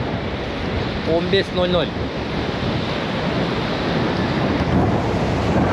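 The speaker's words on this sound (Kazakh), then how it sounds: "Толқын деген осындай болып жатыр." Ocean surf rolls and crashes steadily in Goa, India, with a roar of wind noise, and a brief voice is heard early on.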